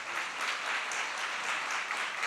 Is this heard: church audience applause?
yes